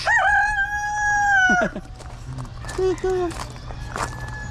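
A rooster crows loudly and close by at a California livestock market selling native chickens, followed by scattered clucks, footsteps and people talking nearby.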